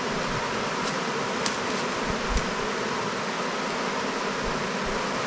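A honeybee colony humming inside an open wooden hive frame box, a steady dense buzz filling the whole clip at close range with no talk.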